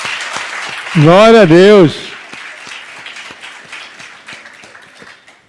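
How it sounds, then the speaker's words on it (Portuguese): A church congregation applauds during a sermon on the resurrection, steady scattered clapping that fades over several seconds, briefly interrupted by a loud sung or shouted exclamation of praise. "Então podemos dar uma salva de palmas ao Senhor."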